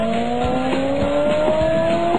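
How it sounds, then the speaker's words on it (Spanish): Car approaching with a steady rising engine tone and tire noise, loud and close throughout, sounding like a racing car on the road. "Espera, Guti, viene un carro."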